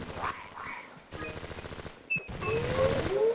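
Turret gunfire in Gex 3: Deep Cover Gecko, rapid mechanical bursts of rattling shots in three runs split by brief gaps, fairly close and steady.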